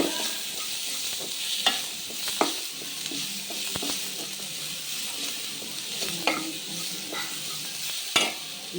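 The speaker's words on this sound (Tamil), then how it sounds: "இப்போ நம்ம வெங்காயம் போட்டுக்கலாம்" Onion sizzling steadily in hot oil in a pan while a spoon stirs it, with soft scraping knocks and clinks over the continuous frying hiss.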